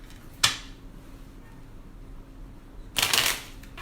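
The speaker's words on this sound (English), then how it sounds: "I'm going to shuffle all these cards up" Two short riffled bursts of a deck of game cards being shuffled for a tabletop wargame, a quick one early and a longer one near the end, close by over quiet room tone.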